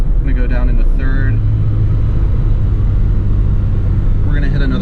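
A 1975 Lancia Fulvia rumbles loudly from inside the cabin as it downshifts into third gear, the engine note holding a steady low drone with a brief rise in revs.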